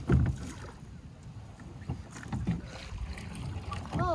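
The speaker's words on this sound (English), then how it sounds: "You need a rowboat with smaller paddles," A small rowboat is rowed with heavy oars on open water. Oars splash and knock in an uneven rhythm over steady wind noise, and a brief voice comes in near the end.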